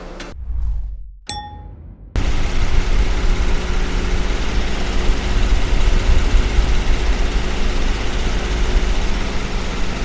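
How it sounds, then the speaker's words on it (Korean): A 2020 Genesis G90 with the 3.8 V6 and all-wheel drive idles with its hood open, a steady, quiet hum that runs unbroken for most of the clip after a brief metallic clang and ringing tone at the start. "엔진 소리 굉장히 정숙했고요"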